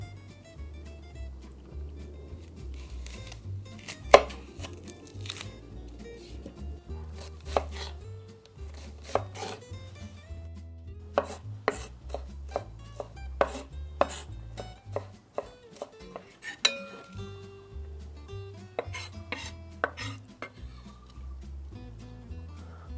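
An onion being chopped with a knife on a cutting board for tartar sauce, a steady series of sharp, close taps, sometimes fast bursts and sometimes spaced strokes, over a low background hum.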